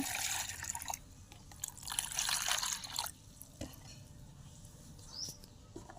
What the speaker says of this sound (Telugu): వాటర్ పోతున్నా